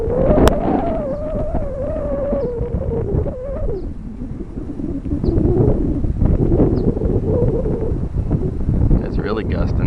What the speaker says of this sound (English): It's really gusting now.